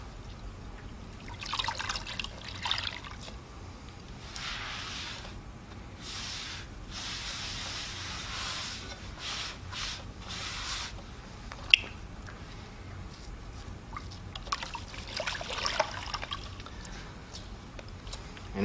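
A wet sponge wiping leftover clay off a pottery wheel head, soft rubbing swipes with faint watery trickles and drips, close and quiet, one brief knock partway through.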